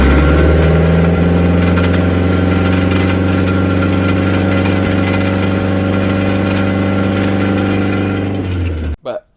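A boat's inboard engine runs steadily at a loud, close idle, its drive's worn U-joints adding a rough mechanical rattle beneath the drone before it cuts off abruptly near the end.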